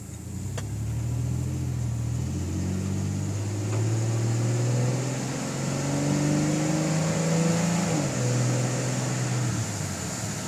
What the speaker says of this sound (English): that exhaust, it really doesn't sound too bad with it straight piped